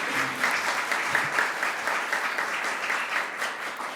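Audience at a governor's bill event claps continuously, a dense, even wash of applause holding steady throughout at moderate volume.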